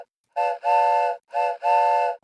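A steam-style train whistle sounds a hype-train alert, blowing four loud, close blasts in two short-long pairs with brief gaps between, clear and alone.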